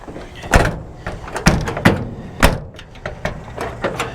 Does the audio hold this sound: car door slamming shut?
yes